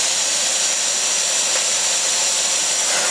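A Dyson DC54 Cinetic vacuum cleaner runs steadily, its loud, even airflow rush and bright hiss holding constant throughout with no voices.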